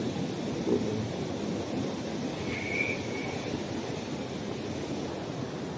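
Waterfall at Lock 32 in Fenelon Falls, Kawartha Lakes, Ontario, gives a constant dense roar of falling water, steady and fairly close, with no talking.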